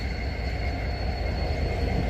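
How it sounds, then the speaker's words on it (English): A southbound freight train hauling wind turbine blades rolls slowly near a river bridge, its heavy, even rumble and rail noise filling the air steadily and fairly close, with no talking. "We got us a blade train, a turbine blade train, a wind turbine blade train, that is."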